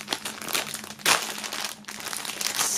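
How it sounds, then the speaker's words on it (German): Plastic foil crinkling as a shirt is pulled from its wrapping, close and continuous rustling and crackling with a sharper crunch near the middle, no talk. "einmal holen wir das Shirt hier aus der Folie"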